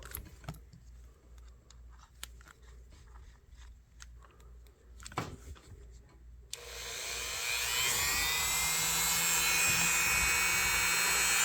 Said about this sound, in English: Perhaps we can get it with the wire wheel.